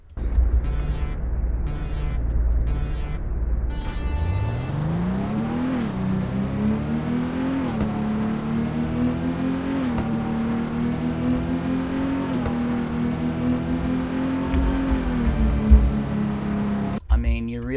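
A BMW M3 GTR engine in the video game Car Dealership Tycoon revs up from idle and accelerates through several gear shifts, a loud steady rising drone that cuts off abruptly near the end.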